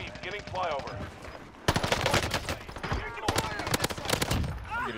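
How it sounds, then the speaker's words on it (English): Call of Duty Warzone gunfire on Rebirth Island, rapid bursts of close automatic shots cracking through mixed game sounds, with a player talking over the shooting. "I'm getting shot in my back by him"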